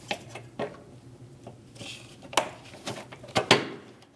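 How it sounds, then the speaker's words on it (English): Plastic clips on the lower air dam of a 2016–2025 Chevrolet Malibu 1.5L are pushed into place, several sharp snapping clicks at irregular intervals, close and fairly quiet, with faint handling noise between. "Push those clips into place."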